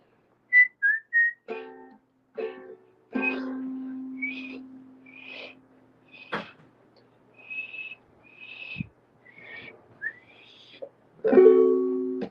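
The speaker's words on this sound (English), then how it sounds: "I gotta whistle in a different key." Someone whistles a simple tune in short phrases, with a few brief spoken words and soft background sounds between the notes.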